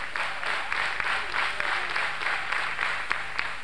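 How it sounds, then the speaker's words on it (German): Audience at a 1987 European Cup table tennis final between Grenzau and ATSV Saarbrücken clapping in unison, a steady rhythmic beat of about three claps per second, moderately distant and continuing throughout. "Dieses rhythmische Klatschen hat sich auch im Tischtennissport in den letzten Jahren, ähnlich wie im Volleyball oder im Basketball, durchgesetzt"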